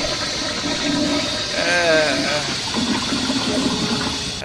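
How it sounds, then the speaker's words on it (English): A toilet flush effect from a soundboard plays during a Just Flight 146 Professional flight simulator session, a steady rushing, gurgling gush of water throughout, with a voice briefly talking underneath. "that would have been perfect timing for the toilet flush sound"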